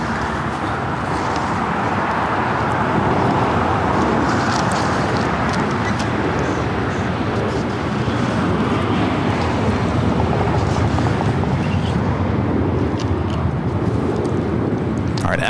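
A brand-new Boeing 737 MAX 9 airliner coming in to land at LAX from Cabo, a loud, steady, broadband jet roar that holds for the whole stretch, roughened by wind buffeting the microphone.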